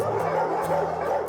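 Many dogs at a large animal shelter in France bark and yip together in a dense, loud chorus, with overlapping yelps close by.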